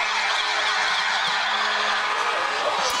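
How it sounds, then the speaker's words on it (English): An ambulance siren wails loudly and continuously as it passes along a street beside a Lorain at Cleveland Heights high school football game, its steady blaring tone filling the whole stretch. "The ambulance just went by on the street to our right."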